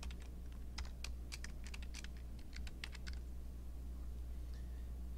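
Keys on a computer keyboard are tapped in a quick, uneven burst of soft clicks that stops after about three seconds, faint and close over a steady low hum.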